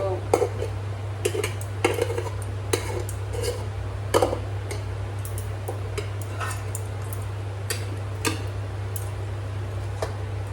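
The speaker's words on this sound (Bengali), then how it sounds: "ভাতটা বেড়ে নিলাম," Rice being served onto a plate in a home kitchen: a spoon scrapes and clinks against the dish in scattered taps over about ten seconds, close by, with a steady low electrical hum underneath.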